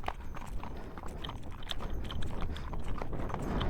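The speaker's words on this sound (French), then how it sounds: "Le poney il trotte plus vite que toi." A pony trots on an outdoor trail ride, its hooves making a quick, steady clip-clop rhythm at moderate distance over light background noise.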